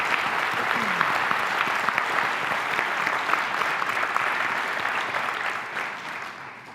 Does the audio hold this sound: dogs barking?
no